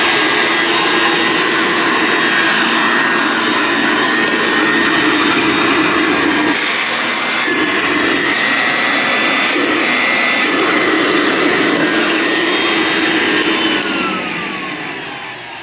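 A hand-held vacuum cleaner runs at high speed with a loud, steady motor whine and airflow roar that holds for the whole stretch, then begins to wind down at the very end.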